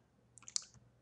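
A computer mouse is clicked in quick succession during 3D modelling work, giving several faint, close, sharp clicks in a short cluster against quiet background hum.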